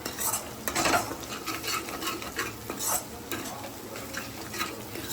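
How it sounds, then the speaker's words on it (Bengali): A spoon stirring a spice mixture of Kashmiri chilli, sugar and salt with ingredients in a pan for stuffed pointed gourd, steady scraping and clinking over a soft sizzle, close and continuous. "এবার সমস্ত উপকরণ ভালোভাবে মশলাটার সাথে মিশিয়ে দেব"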